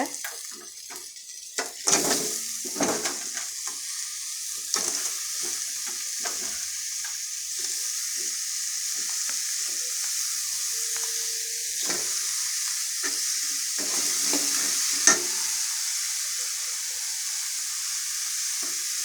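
Half a kilo of crab with turmeric powder sautéing in a pan for crab gravy, a steady soft sizzle with scattered stirring clatters and scrapes throughout.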